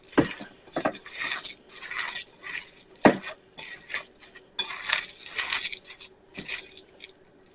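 Burger patty mixture mixed by hand with breadcrumbs, giving close, wet squishing and slapping bursts at an uneven rhythm, with a sharper squelch near the middle and softer kneading between.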